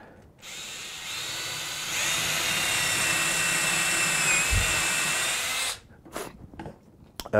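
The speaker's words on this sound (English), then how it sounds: "I'm going to drill a hole through it" A power drill whines steadily for several seconds, rising in pitch as it bites through wood, then stops, followed by a few clatters.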